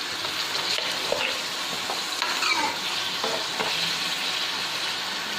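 Mutton karahi frying over high heat, a steady close sizzle with occasional stirring scrapes and clinks running throughout, no voices.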